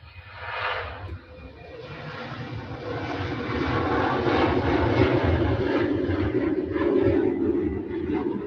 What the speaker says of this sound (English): Next one out is the Finnair. That's an Embraer E190.